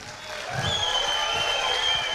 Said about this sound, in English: And a round of applause to the owners of this venue.